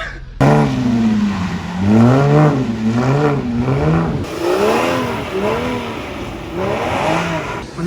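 A drift car on a circuit accelerates hard through repeated surging revs, its engine note climbing and dropping in rhythmic waves, loud and close, with tyre noise mixed in.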